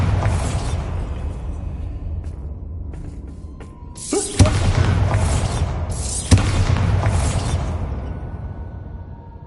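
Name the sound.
Bombarda and Confringo spell explosions in video game Hogwarts Legacy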